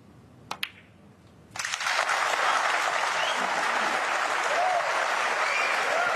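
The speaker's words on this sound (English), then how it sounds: "Well, that might be the biggest cheer we've had so far this week" A snooker audience at the World Masters of Snooker bursts into sustained applause and cheering after a couple of sharp knocks, the clapping loud and continuous to the end.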